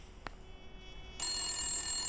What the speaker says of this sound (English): of course the phone starts ringing the minute that